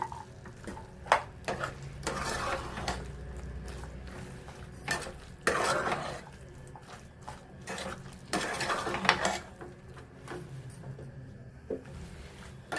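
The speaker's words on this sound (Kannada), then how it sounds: "ಚೆನ್ನಾಗಿ ಮಿಕ್ಸ್ ಮಾಡ್ಕೊಳ್ಳೋಣ" Potato, peas and capsicum dry curry stirred in a pan with a metal spoon, giving irregular scraping and clinking strokes, close and moderately loud, with brief quiet gaps between bursts.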